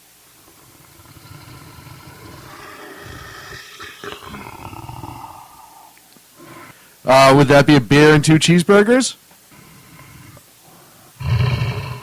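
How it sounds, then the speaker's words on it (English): A person talks, then loud growling roars burst in, a long rumbling run followed by a shorter roar near the end. "And that growling demon sound."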